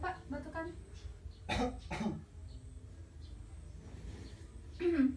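A patient doing an effective cough exercise to clear sputum, giving several short, separate coughs and throat-clearing bursts close by, with brief speech between them.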